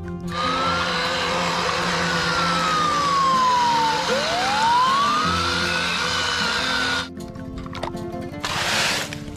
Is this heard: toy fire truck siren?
yes